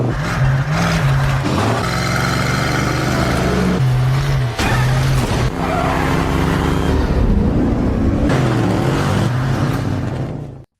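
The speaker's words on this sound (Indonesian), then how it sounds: "jadi Brian segera menginjak gas lagi" A car engine surges and revs through a tense chase scene in an action film, loud and steady throughout, with music-like layered tones over the motor and no talk.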